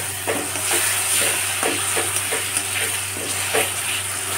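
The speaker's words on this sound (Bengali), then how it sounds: "মশলাটা আমি কষাচ্ছি, তার মধ্যে দিয়ে দেব ফেটানো টক দই।" Tomato, chilli and cashew spice paste sautéing in a pan for Kashmiri aloo dum, a steady sizzle broken by regular scraping strokes of a spatula about twice a second.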